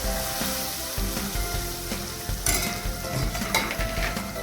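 Oil sizzles and crackles steadily in a pan during dal tempering, close up, with occasional scraping stirs and a couple of sharper spatters.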